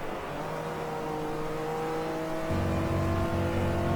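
A race car engine in GT Legends, an Abarth, revs hard and steadily with a droning, raspy tone that climbs and jumps to a louder, fuller pitch partway through, alone without talk.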